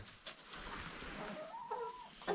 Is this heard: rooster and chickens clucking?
yes